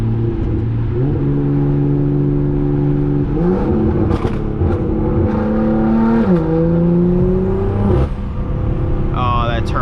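Turbocharged BMW 340i engine accelerating in snowy winter driving, a loud continuous drone whose pitch climbs in steps through gear changes, with a sharp whoosh of turbo noise near the end.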